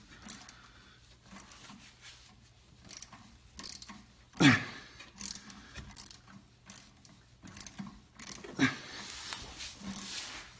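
Ratchet with an 8 mm socket working on a belt tensioner bolt of a Buick GM 3800 Series II engine: faint, intermittent ratcheting clicks and clanks in short runs, with one sharper metallic knock amid low background noise.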